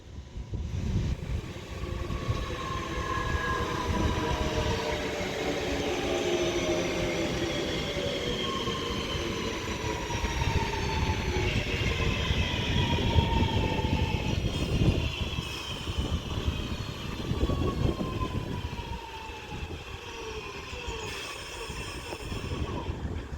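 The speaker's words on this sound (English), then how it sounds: "as this Northern 323 now arrives in" A Northern Class 323 electric train pulls into Levenshulme station on the West Coast Main Line Manchester branch, a loud, sustained rumble of wheels on rail with whining motor tones and squealing brakes as it slows.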